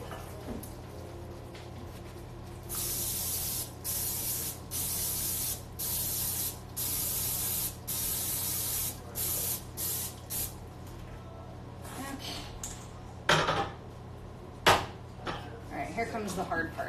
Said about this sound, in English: you just want to spray the pan really well